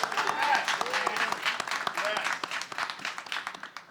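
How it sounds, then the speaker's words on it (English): Applause from a gala audience at a hip-hop induction event, a lively burst of many hands clapping with cheers and voices mixed through, gradually becoming more scattered. "big round of applause for our creative director"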